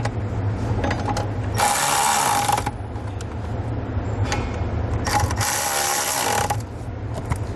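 Screws on a Roadmaster stop light switch bracket tightened under the dash of a 2020 Jeep Gladiator, two bursts of close ratcheting power-driver whir over a constant low hum, no talk.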